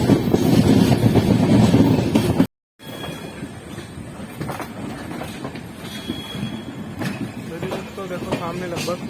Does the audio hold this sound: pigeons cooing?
no